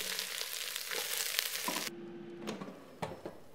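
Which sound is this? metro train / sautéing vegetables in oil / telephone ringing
sautéing vegetables in oil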